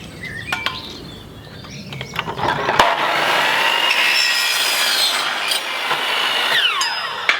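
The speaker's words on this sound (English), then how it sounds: "Compound chop saw, guys. Best way to cut aluminium." A compound chop saw cutting aluminium in a garage, a loud sustained high whine and grinding that runs for several seconds after some lighter clicks and handling noises, with no talk.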